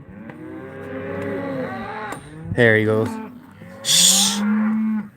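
Cows and calves bawl on a ranch during cattle sorting, giving several long, drawn-out moos of different pitches close by. Someone says a few words partway through.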